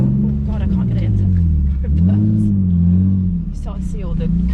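A car with a loud exhaust maneuvers slowly through a quiet residential street, its deep, close engine rumble swelling and dipping in pitch while someone talks over it.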